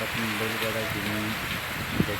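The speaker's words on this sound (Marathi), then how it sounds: "धबाधब पाऊस सुरू आहे" Heavy monsoon rain pours steadily over farmland in a dense hiss, with a faint voice underneath.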